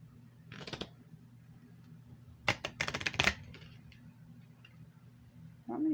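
A quick riffle of tarot-style reading cards ruffles briefly, followed by a burst of snapping, fluttering card sounds, then a soft thump at the end, close up with no talking.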